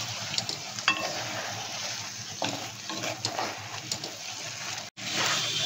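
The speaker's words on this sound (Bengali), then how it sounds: "মাংসটা এখনো নেড়ে যাচ্ছি। দেখো মাখন উঠে গেছে এর মধ্যে" Chicken sizzles and fries in butter for a Bengali malai chicken while a spoon stirs it through the pan. The sizzle is steady and close, with soft scraping and clinks from the stirring.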